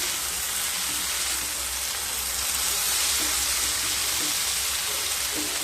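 Okra dish with onions sizzling steadily in a pan as it is stirred, a continuous close frying hiss with no talk.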